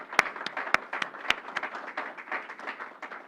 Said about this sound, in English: Let's please give her a round of applause.